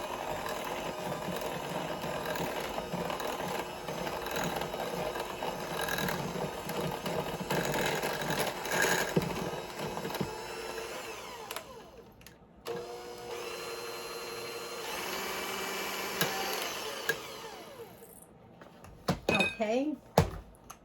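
Cream cheese filling with vanilla extract and white sugar is mixed in a bowl, with steady scraping and clinking of a utensil against the dish and quieter, irregular clatter toward the end.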